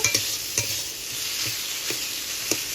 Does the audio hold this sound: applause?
no